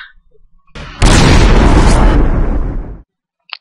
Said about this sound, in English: that's how you get that explosion shot